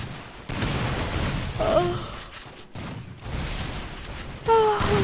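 Dense gunfire from the Free Fire battle royale video game, a near-continuous loud fusillade across the whole stretch with brief gaps, in-game sound effects layered over it.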